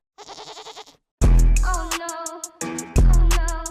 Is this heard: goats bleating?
yes